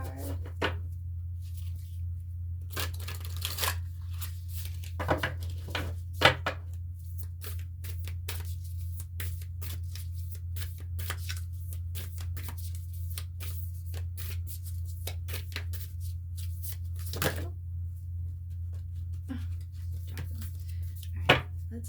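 Oversized Disney Princess affirmation cards are shuffled by hand, giving scattered crisp riffling clicks and flicks at irregular moments over a constant low electrical hum, with no speech.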